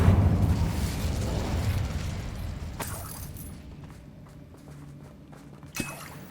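A fiery Incendio spell cast in Hogwarts Legacy erupts with a loud whooshing burst that slowly fades into quieter rumbling, with a sharp pop near the end.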